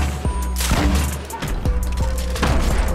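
A suppressed pistol fires in the game Fortnite, several muffled, punchy shots spaced irregularly over steady game background sound, fairly loud and close.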